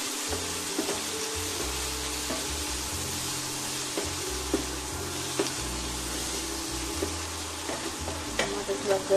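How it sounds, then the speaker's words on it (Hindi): Banana flower stir-fried with red chilli powder in a pan: a steady broad sizzle runs throughout, with a spatula scraping and clacking against the pan at irregular intervals, growing busier toward the end. "लाल मिर्च पाउडर अच्छे से मिला के और अच्छे से भून लेंगे।"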